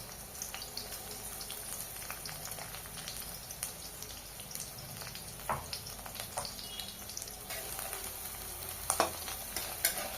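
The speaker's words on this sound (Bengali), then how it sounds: "তেল গরম হয়ে গেছে, ভেন্ডি দিয়ে দেবো।" Okra fries in hot white oil in a wok on a gas stove, a continuous crackling sizzle with scattered sharper pops and occasional stirring clatter, close and fairly loud without any talk.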